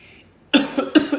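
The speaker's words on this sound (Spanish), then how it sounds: "no hay que toser con la mano" Two sharp coughs sound close up, one right after the other, following a brief quiet moment.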